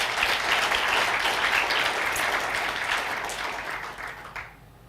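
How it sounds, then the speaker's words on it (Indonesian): Dense, sustained applause from a church congregation fills the room, steady and loud for several seconds before tapering off and falling quiet at the end. "Boleh sekali lagi kita berikan tepuk tangan."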